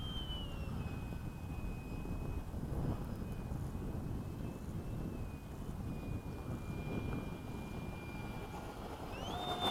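A Habu32 RC jet plane comes in to land at Bayside, its turbine giving a steady, thin high whine over a continuous rush of wind and engine roar that holds level for the whole stretch.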